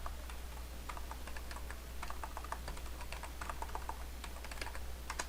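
Rapid, irregular keystrokes on a computer keyboard as commands are entered into a Cisco network device console, steady clicking close by over a constant low hum, with no talking.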